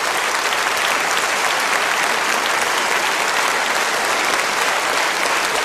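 A snooker crowd at the Paul Hunter Classic applauds, continuous dense clapping filling the hall at an even, loud level.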